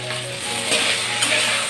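Snake gourd fries and sizzles in a pan while a utensil stirs it, a steady close crackle with brief scraping strokes.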